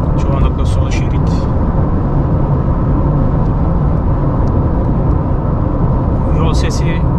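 Subaru XV cruising fast on a highway, heard from inside the cabin as a loud, constant roar of tyre and road noise, with someone talking over it.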